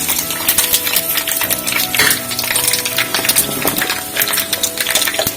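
Fenugreek seeds and curry leaves crackle and sizzle in hot oil while tempering for ven pongal, a steady close frying hiss dotted with quick pops and a few faint clinks of a utensil.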